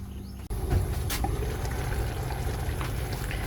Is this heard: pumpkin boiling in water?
yes